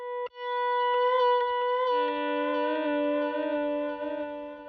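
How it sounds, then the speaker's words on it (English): Guitar played through a Line 6 Helix running a legacy Line 6 DL4 Auto Volume Echo patch, giving a swelled, reverse-like delay: sustained notes fade in and overlap into a smooth shimmering wash, with a lower note entering partway through, no voices. "So this is actually a legacy patch from the Line 6 DL4. It's like a reverse or swelled delay."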